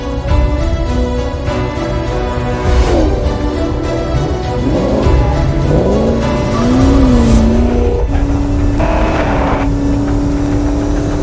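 A race car drives hard around a racing circuit, its engine note rising and falling through gear changes and corners, with tyre squeal on a slippery track surface, loud and continuous throughout.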